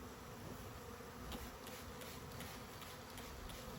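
A honeybee swarm in a tree gives a dense, continuous buzz of many insects, faint and even throughout with no voices.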